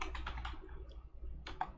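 Keystrokes on a computer keyboard as terminal commands are typed into an Unreal Engine 4 game console, with quick clustered bursts of clicks, a short pause, then another brief run of taps, close and fairly quiet.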